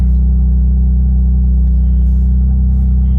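A cold BMW M4 (F80/F82 series) engine running at idle, a steady loud low rumble with a constant droning hum and no clear revving, close by and alone.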